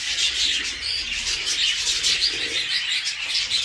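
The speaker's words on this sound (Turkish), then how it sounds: "Her yerde kaliteli jumbo kuşlar." Jumbo crested budgerigars fill an aviary with dense, continuous high chirping and twittering from many birds at once, steady and loud throughout.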